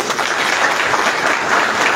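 Audience applause at the official opening ceremony of the Oracle R&D Centre in Casablanca, a loud, continuous wash of many hands clapping in a large room, close and steady throughout.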